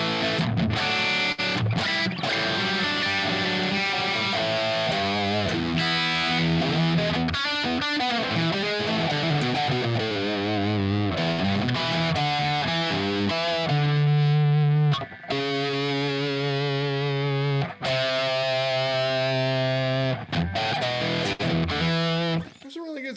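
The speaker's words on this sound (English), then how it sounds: "So now I can turn the distortion up on this just a little bit." Heavily distorted electric guitar plays chords and riffs continuously, loud and saturated, with a gritty overdriven tone throughout.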